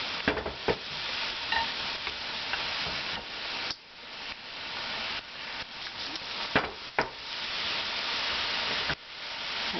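Battered kabocha squash pieces fry in hot oil with a dense, continuous sizzle, broken by sharper crackles and stirring clicks as pieces go in, close and alone with no voices.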